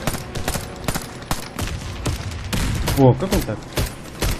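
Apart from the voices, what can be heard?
gunfire in a video game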